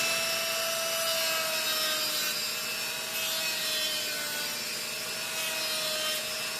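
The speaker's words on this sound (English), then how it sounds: "It's plastic. I can sand it." A plastic model starship part is sanded by hand, giving a steady, continuous abrasive rasping that stays close and fairly even for the whole stretch, with no talking.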